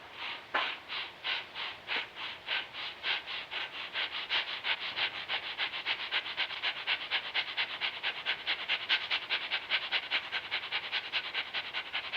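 Rapid, even panting in a breathing exercise, quick in-and-out breaths repeating steadily and speeding up slightly, close and alone without speech.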